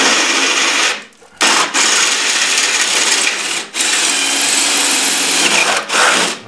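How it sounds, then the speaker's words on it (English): A power drill runs a tap through metal to cut size 4 threads, whirring in sustained runs, briefly stopping three times between bursts, close and loud with no talking. "So now I'm going to run my tap drill"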